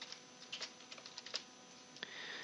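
Quiet clicks of a computer keyboard as a category name is typed, an uneven burst of keystrokes close up with no voices.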